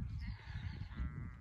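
Sheep bleat close by in a mountain flock being herded in Nurhak, a short, loud, wavering call over low rumbling wind noise.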